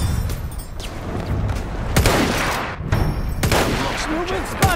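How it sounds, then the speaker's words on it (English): Enemy machine gun fire in Battlefield 1, bursts of rapid gunshots and booms over constant battle noise, with a few whistling streaks and shouted voices mixed in. "That's an enemy machine gun!"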